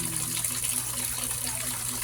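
Free-flowing water, a steady close gushing stream running continuously with no talk over it.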